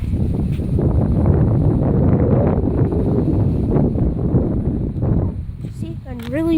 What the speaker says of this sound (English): See, and really windy.